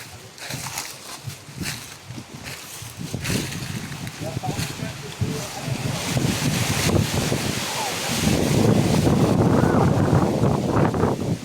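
Strong wind buffeting the microphone in heavy gusts, growing louder toward the end, with scattered voices underneath.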